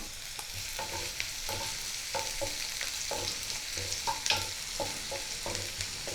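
Chopped ginger and garlic frying and being stirred in hot mustard oil in a wok, a steady close sizzle broken by repeated scraping stir strokes, with no talking.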